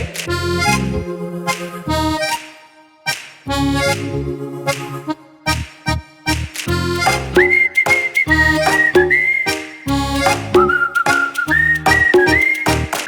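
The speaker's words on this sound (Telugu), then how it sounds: "ఇంకొకసారి విజిల్ అయ్యవా ప్లీజ్ ప్లీజ్ ప్లీజ్" A person whistles a melodic tune in a Telugu music album piece. The bright, sustained whistled notes ride over a backing track of rhythmic music, loud and close, with short phrases and pauses.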